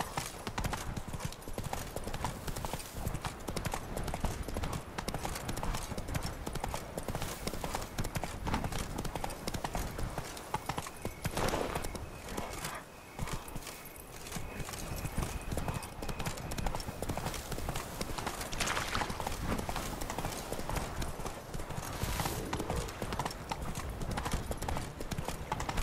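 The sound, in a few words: horse hooves galloping, from video game The Witcher 3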